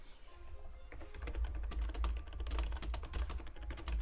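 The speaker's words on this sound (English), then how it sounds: "Frantic typing." Fast, frantic typing on a computer keyboard, dense clusters of sharp key clicks building in pace over a low background rumble, close and continuous with no talk.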